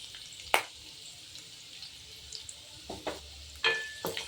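Finely chopped garlic and ginger fry in a pan for a paneer dry fry, a soft, quiet sizzle broken by a few sharp utensil clinks and scrapes, with no talking.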